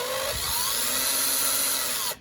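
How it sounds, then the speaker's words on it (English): Power drill spinning a hobby file in its chuck to enlarge a wheel hole on a Marklin 3030 model locomotive, a steady close high-pitched whir that holds then stops abruptly. "you can actually load them into the chuck of a power drill and save yourself a lot of effort"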